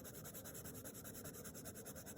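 A brown colored pencil shading lightly on paper, giving a quiet, continuous scratchy rubbing with quick back-and-forth strokes, very close and faint.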